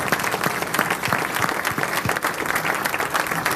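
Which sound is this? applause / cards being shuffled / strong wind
applause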